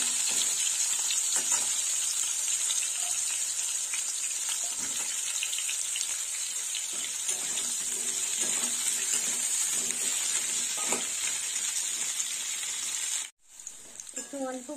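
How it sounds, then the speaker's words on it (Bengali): Sliced bitter gourd rounds frying in oil in a pan, a steady close sizzle and crackle that runs continuously, briefly dropping out near the end before resuming. "লাল লাল করে করলাটা ভেজে নেব"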